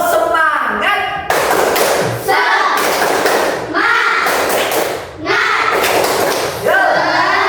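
A group of children in a classroom claps the rhythmic 'tepuk semangat' chant, loud, close clapping in patterned bursts punctuated by shouted chant syllables.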